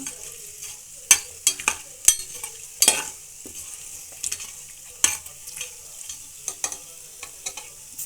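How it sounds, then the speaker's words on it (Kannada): Whole spices and a bay leaf frying in hot oil for tomato bath, giving a steady close sizzle broken by sharp stirring clicks and scrapes of a utensil against the pan, with no talk. "ಪಲಾವ್ ಎಲೆ ಹಾಕ್ಕೊಂಡು ಒಂದು 3 ಸೆಕೆಂಡ್ ಹುರ್ಕೊಳ್ಳೋಣ."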